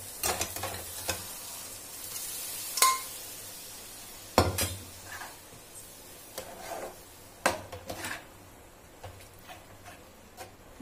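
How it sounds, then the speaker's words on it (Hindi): Peas go into hot oil with cumin and black salt in a pan, a soft sizzle broken by intermittent scrapes and knocks of stirring against the cookware, close and fairly quiet. "तेल छोड़ने लगा है, अब इसमें मटर डाल देते हैं।"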